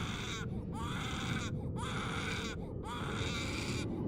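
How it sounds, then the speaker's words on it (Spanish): An eerie, wailing cry like a baby's sobbing, heard as repeated rising-and-falling cries with short gaps under a constant low drone in a horror story about a haunted doll. "la mujer se armaba de valor para investigar el origen de ese particular llanto"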